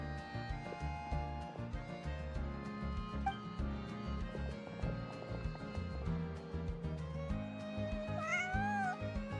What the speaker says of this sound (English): Even cats love him.